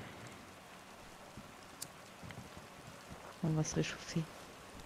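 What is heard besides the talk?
rain in the video game DayZ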